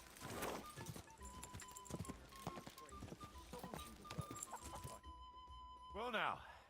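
Horse hooves clip-clop at a steady trot in the medieval Bohemian setting of Kingdom Come: Deliverance II, moderately close and mixed with chicken clucks and a brief whinny-like call near the end, with a voice talking over parts.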